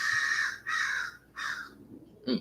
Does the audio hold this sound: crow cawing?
yes